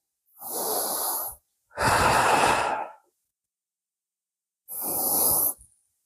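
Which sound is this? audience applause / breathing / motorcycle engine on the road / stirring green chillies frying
breathing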